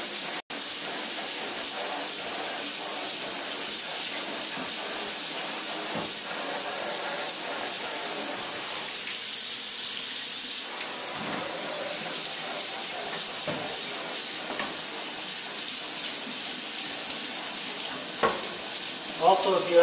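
Water sprays steadily onto a Yudu screen to rinse emulsion out, a constant close hiss of running spray with small splashing variations throughout and a brief pause near the middle.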